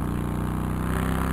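A motorbike engine in the video game Quadrilateral Cowboy, a steady low droning putter with a smooth, even tone for the whole short stretch.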